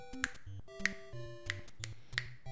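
Crisp finger snaps, five of them spaced roughly half a second apart in a steady rhythm, each a sharp click over a soft background of musical tones.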